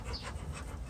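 Four-week-old puppies give short, soft panting sounds and small whimpers that carry on steadily through the second, close by and fairly quiet.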